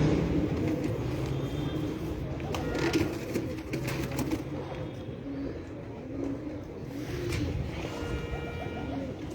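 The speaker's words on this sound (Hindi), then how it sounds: "ये माशाल्लाह 39 नंबर मदीने वाले टैडी कबूतर" Teddy pigeons coo steadily in a breeder's loft, overlapping low throaty calls close by, with faint traffic rumble in the background.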